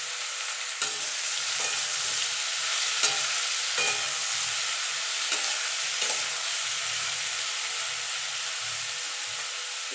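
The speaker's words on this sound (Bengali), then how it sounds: "এবার ইঁচড়টা আমি ভেজে নেব।" Raw jackfruit pieces fry in hot oil for a vegetarian curry, giving a steady, dense sizzle with occasional stirring scrapes and pops, close and continuous throughout with no talking.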